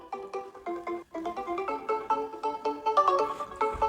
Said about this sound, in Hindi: ये किसका फ़ोन आया